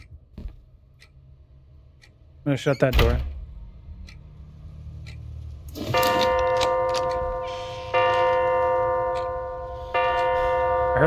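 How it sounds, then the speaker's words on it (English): A steady, regular ticking clock in the horror game Snapshots of Terror, running under a man's speech, with chiming bell-like tones joining later and footsteps and a door nearby. "Oh, that's a clock."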